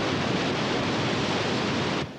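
A cartoon waterfall in a Moomins episode roars as a loud, dense, continuous rush of falling water, steady throughout, dropping somewhat in level near the end.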